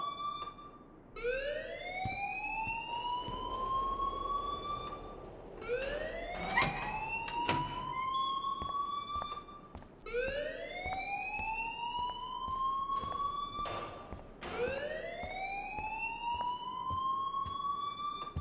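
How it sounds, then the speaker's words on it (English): A school alarm in the video game Life is Strange wails in repeated rising sweeps, four long cycles sounding steadily and loud with no talk over it. "please turn off that alarm since that's your job"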